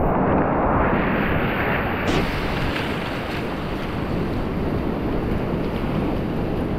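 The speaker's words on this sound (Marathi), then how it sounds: "लाटा बघा केवढ्या मोठ्या मोठ्या येतात." Big waves from a sudden storm heard from a fishing boat in the deep sea off Mumbai, a loud, continuous roar of surf and water mixed with heavy wind buffeting the microphone, with no voices.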